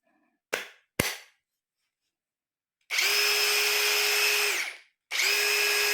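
Two sharp clicks, then a TEH LID230 cordless impact driver whirs at high pitch for about two seconds, stops, and starts whirring again.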